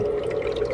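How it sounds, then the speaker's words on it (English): Water trickling over the freezing coil inside an Igloo ICE1025 countertop ice maker, a brief steady running-water sound with a faint underlying hum, moderately close and alone. "it freezes the ice as the water runs over the coil"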